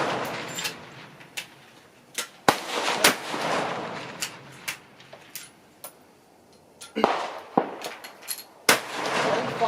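F-Class rifle shots at an outdoor shooting competition, sharp distant cracks at irregular intervals, some in quick clusters, over faint background noise and occasional voices.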